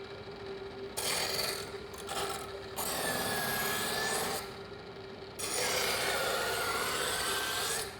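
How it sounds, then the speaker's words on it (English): Kitchen knife sharpened on a grinder during food-preparation knife handling, a steady rasping, grinding scrape in several long strokes with short pauses between, close and fairly loud over a constant background hum. "So let's just do it a few more times so that you can see exactly how to use your grinder."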